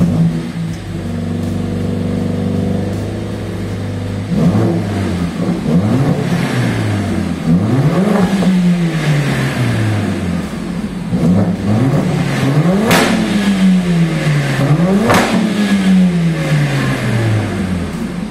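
A Mercedes AMG CLA 45 S with 421 hp accelerates hard, its engine climbing in repeated rising revs through several gear shifts, loud and close with a rough, roaring tone and brief shift blips.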